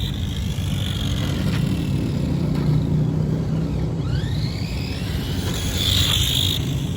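A 1991 Tamiya Ferrari F40 radio-controlled car driving, its electric motor giving a steady whirring drone with rising and falling whines as it speeds up and slows, close and continuous throughout.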